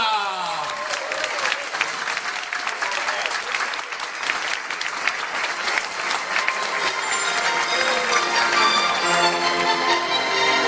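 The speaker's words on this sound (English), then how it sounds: "Let's hear it for number 71, Louis LeBlanc." Sustained, loud applause from a seated audience at a sports celebrity breakfast fills the whole stretch, steady and dense, with a few cheers mixed in as a hockey player is introduced.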